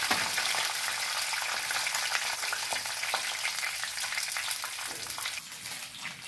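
Cashews and curry leaves sizzle in hot oil for a tempering, a dense, steady crackling fry heard up close and uninterrupted, with no talking.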